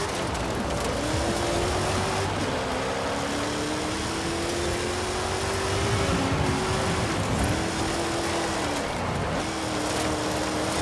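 A car engine revving and holding high as the car power slides in Forza Horizon 5, with a steady whining pitch that dips and recovers several times amid tire and road noise.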